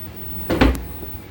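A hotel room drawer slides open or shut in one brief, close wooden rumble with a soft knock at the end, alone in a quiet room.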